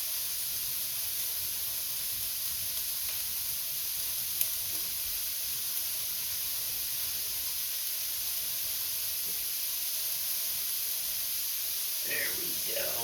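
Ginger hits a hot pan with a steady, close sizzling hiss that runs throughout, with a faint clatter near the end and a voice speaking briefly.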